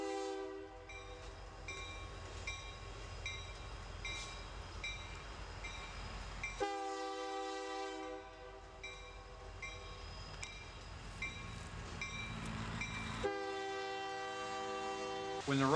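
A freight train rolls past steadily with a continuous tonal horn sounding in long held blasts over rumbling wheels, fairly distant and sustained.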